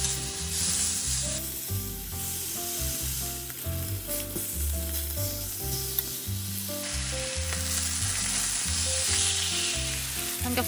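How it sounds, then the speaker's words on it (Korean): Salted and peppered pork belly slices frying in a preheated pan, a steady loud sizzle running throughout with constant crackle and no voices. "이제 달군 후라이팬에 삼겹살을 올려서 그냥 굽듯이 노릇하게 구워주세요."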